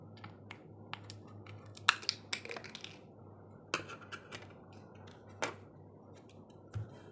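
A plastic drinking straw is snipped with scissors, a few sharp, sparse clicks and cuts, close and quiet against a low hum, with no talk.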